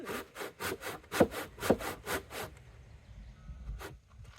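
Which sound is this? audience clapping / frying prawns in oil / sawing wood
sawing wood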